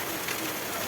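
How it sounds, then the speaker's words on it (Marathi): Steady rain pours down outdoors, soaking trees and a road, a dense even hiss of drops that holds at constant level with no voices. "चला जरा तिकडच्या साईडला जाऊन बघूया कसा पडायला लागला पाऊस."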